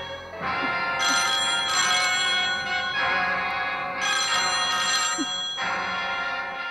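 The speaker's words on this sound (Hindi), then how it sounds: "फोन" A telephone rings in repeated bursts, each a bright trilling peal separated by short gaps, fairly close and unaccompanied by talk.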